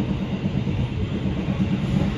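The KA Taksaka train rolls along the tracks with a steady, close rumble and faint rhythmic clatter from the wheels, heard from inside a carriage.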